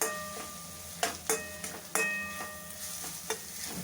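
Spices being stirred into a puffed rice chaat mixture in a pan, with a few sharp scraping clicks of a spoon against the pan over a soft, low background hum.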